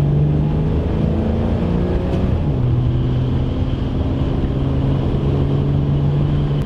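1970 Dodge Challenger V8 engine while driving after a power upgrade, a loud, steady droning rumble with pitch rising and falling slightly, heard close up with no talking.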